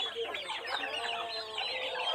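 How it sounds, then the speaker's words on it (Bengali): A black Cochin rooster clucks close by in a steady run of short calls over 2 seconds, with no speech. "তো দেখেন মোরগটা খুবই সুন্দর।"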